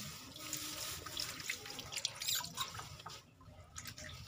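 Hands being washed under a running kitchen tap, with a steady stream of water splashing into the sink and a few drips. It runs continuously at moderate level with no talking.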